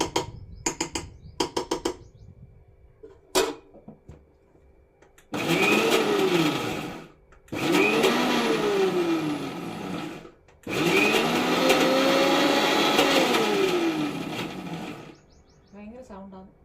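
A kitchen blender whirs loudly in three long bursts, each several seconds, with short pauses between, mixing homemade mayonnaise; brief clattering and a few voices come before the first run.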